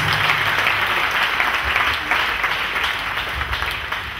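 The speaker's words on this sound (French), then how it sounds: "Clap for Lord Jesus Christ" A church congregation at a Sunday prophetic service applauds together, a dense, steady wash of clapping that stays loud for the whole stretch, with a faint low hum underneath.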